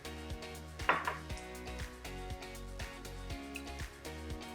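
A spoon stirring chocolate chips into thick chocolate muffin batter in a bowl, giving soft repeated taps and scrapes against the bowl in a steady rhythm over faint background music.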